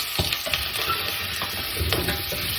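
Pumpkin pieces with dry thyme stirred in a hot pan over high heat: a constant sizzle and frying hiss with soft scraping strokes of the spoon, close and steady throughout.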